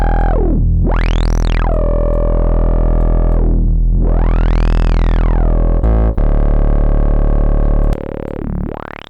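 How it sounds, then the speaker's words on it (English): A buzzy synthesizer tone runs through a heavily driven, distorted filter that sweeps up and down in slow, squelchy arcs. "So you can get really nice driven filter sounds."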